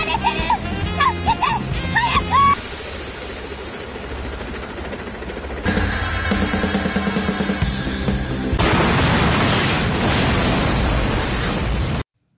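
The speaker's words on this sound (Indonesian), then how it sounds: "lalu terjadilah ledakan." A thrown bomb explodes loudly in an animated detective film, rolling into a sustained, rumbling roar, following a stretch of mixed busy noise.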